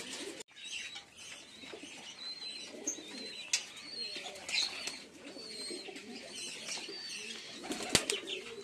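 Fancy pigeons coo and flutter their wings while eating their evening feed, with soft overlapping calls and brief wingbeats from several birds close by, and a single loud flap near the end.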